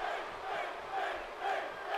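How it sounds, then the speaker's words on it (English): A WWE 2K18 arena crowd roars in support of Finn Bálor, a broad sustained wash of cheering that rises and falls in gentle swells without any clear voice over it. "Crowd cheering for Finn here"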